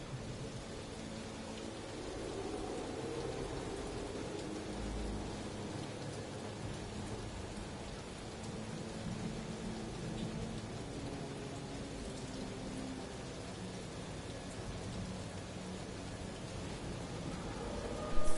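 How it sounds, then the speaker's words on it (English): A rain-soaked thunderstorm in the video game Guardians of the Galaxy fills the air with a dense, steady hiss of falling rain and a low background rumble, continuous and even throughout, with no voices. "Perhaps the storm will have abated."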